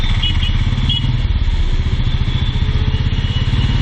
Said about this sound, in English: And now it's time to see how it performs and how I feel riding the bike.